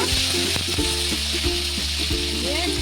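Tomato paste and ginger paste sizzle in hot oil with dried red chilli and bay leaf for a vegetarian soybean curry, a steady close frying hiss with occasional stirring scrapes and no talk.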